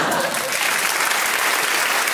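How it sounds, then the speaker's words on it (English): A large crowd applauding and cheering in a loud, dense, continuous roar that holds steady without pause. "the crowd here have gone absolutely berserk"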